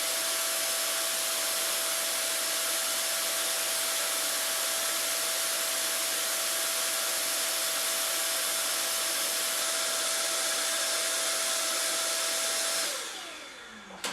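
A Milwaukee M18 BLHSB cordless air gun blower runs at full power in a loud, steady, close rushing whine with a constant tone, then winds down abruptly near the end.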